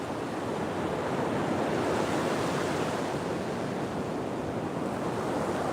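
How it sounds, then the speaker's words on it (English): Ocean waves wash onto a beach in a constant broad roar of surf, loud and steady, with wind noise buffeting the microphone and no talking. "We right on the beachfront."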